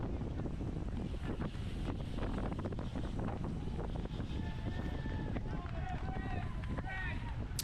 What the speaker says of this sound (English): the wind started swirling a little bit, and every once in a while it would change directions